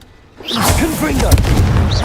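A Confringo spell detonates in Hogwarts Legacy as a sudden booming whoosh that holds loud and dense, mixed with a character's voiced shouts and whistling effects.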